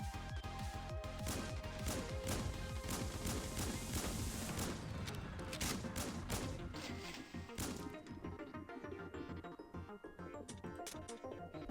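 Rapid, loud bursts of shotgun fire from the video game Snezhinka: Sentinel Girls 2, dense overlapping blasts and impacts over a busy game soundtrack, thinning out toward the end.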